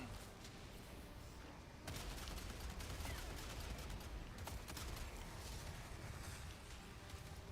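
Continuous artillery barrage in a video game, a dense unbroken roll of booming blasts that swells louder after the opening seconds and keeps pounding steadily to the end, with no voices over it.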